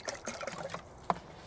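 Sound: pouring water into container for bread dough

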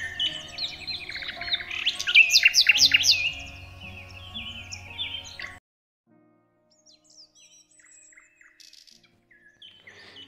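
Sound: birds singing in a forest

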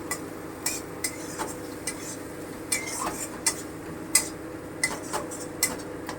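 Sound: stirring and frying onion paste and garlic in pan

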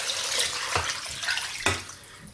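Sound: water poured into pressure cooker with tripe and oxtail

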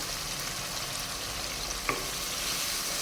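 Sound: stirring tomato pickle frying in oil

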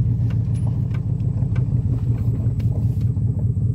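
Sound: 1991 Chevrolet Silverado truck driving

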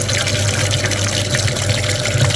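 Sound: water flushing a VW Passat B7 heater radiator

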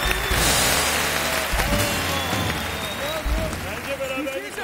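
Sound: applause from studio participants

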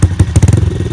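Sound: motorcycle engine revving

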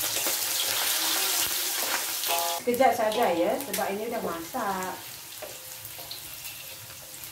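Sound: jengkol frying in hot oil

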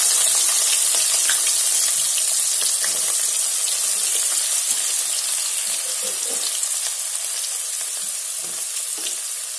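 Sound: onions frying in a pan

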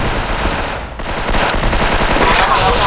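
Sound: gunfire in a video game

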